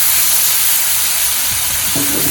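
Chopped tomatoes with salt cook in a pan for pepper chicken, giving a steady loud sizzling hiss with a few faint stirring scrapes near the end.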